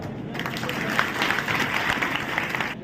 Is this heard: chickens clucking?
no